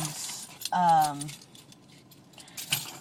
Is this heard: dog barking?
no